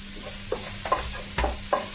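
Ginger, garlic and pepper sizzling in a pan for crab masala, a soft steady hiss broken by several light stirring scrapes, quiet and close.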